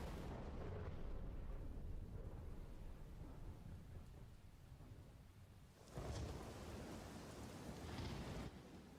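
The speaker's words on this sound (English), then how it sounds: "This storm is crazy." Storm with thunder and rain in an animated episode, a dense continuous roar of rain and rumbling with a louder thunder surge partway through, no voices.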